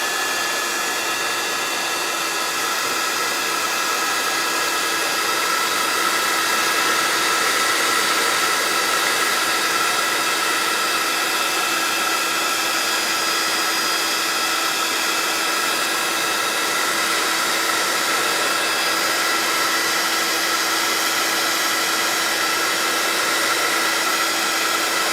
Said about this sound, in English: then you use a heat gun, not a hairdryer, it has to be a heat gun